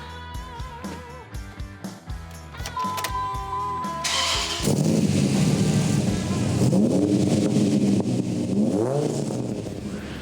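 A Muscle Trux competition truck, either an SRT Viper-powered build or a Ford F-150 EcoBoost, cranks and catches, then its engine roars loudly and revs up and down in rising and falling swells close to the mic.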